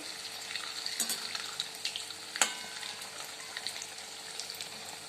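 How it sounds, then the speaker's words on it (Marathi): Sabudana vada frying in oil on a low flame give a quiet, steady bubbling sizzle scattered with small pops and one sharper crackle midway, heard alone. "आणि याला पण दोन मिनटं आपल्याला मंद आचेवर तळून घ्यायचं आहे"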